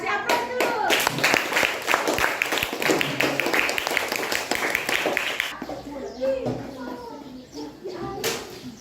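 An audience at a school teachers' presentation breaks into applause, a burst of clapping hands for about five seconds that then thins out into a few scattered claps beneath children's chatter and murmuring.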